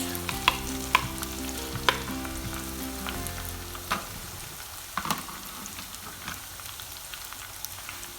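Grated ginger, chopped Scotch bonnet and onions fry in a pan for Nigerian pepper sauce, giving a steady close sizzle with a few clicks of stirring at the start that soon settle into a softer, even crackle.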